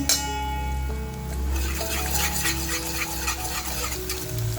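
Onion, fried until lightly reddened, sizzles in oil as turmeric goes into the pan, a steady close frying hiss with stirring scrapes and a low background hum.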